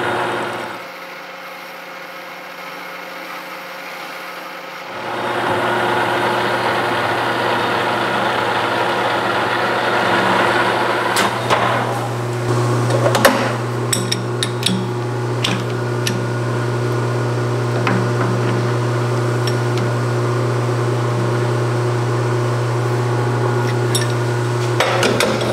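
Lathe starting up to chamfer the edge of a metal coupler for a Schuler MS-750 feed/mixer wagon, with a steady loud machine hum after a quiet start and scattered sharp cutting and ticking sounds.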